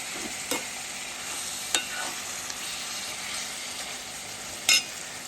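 Fish curry with tamarind being stirred in a pan, a soft steady sizzle running throughout with a few brief scraping clinks of the spoon against the pan, close and fairly quiet with no talking.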